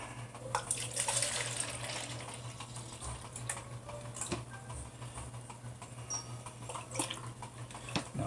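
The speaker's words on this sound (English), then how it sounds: "I'm going to pour some of this out." Clamato Picante pours from a bottle in a thin, steady trickle of liquid, with faint ticks and clinks around it and no talk.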